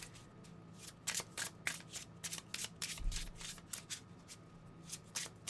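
Desert Rites Oracle cards shuffled by hand, a quick series of crisp riffling flutters and soft slaps, close and fairly quiet, with no voices.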